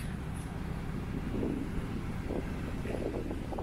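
Steady wind on the beach at James Price Point, Western Australia, rushing across the microphone, a continuous broad roar with low rumbling gusts and no voices.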